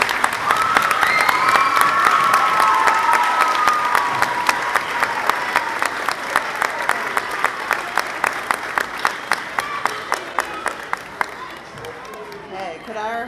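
Audience clapping at a sixth-grade school academic awards ceremony, steady applause that thins out into a few scattered individual claps toward the end.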